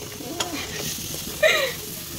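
Tomatoes dropped into a hot frying pan, a soft steady sizzle with light stirring scrapes and a brief louder burst near the end, with a voice faintly underneath.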